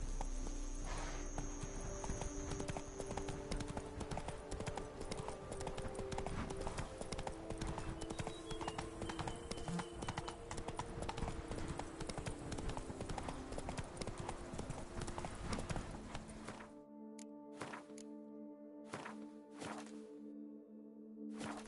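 Horse hooves gallop in a rapid, steady clip-clop rhythm in the Witcher 3 video game, continuous and fairly close, with a brief whinny, before stopping abruptly into a few sparse hoof and footstep sounds.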